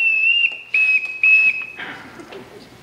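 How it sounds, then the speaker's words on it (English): A ship captain's shrill whistle, blown to summon people during a high school stage production of The Sound of Music: three sharp bursts with short gaps, loud and close, then fading into room noise. "Can't bear being whistled for."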